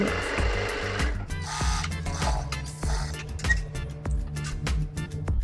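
Sewing machine stitching an outline seam on an A-line frock, a loud, close, continuous mechanical whirr with rapid rhythmic ticking and brief pauses, heard alone.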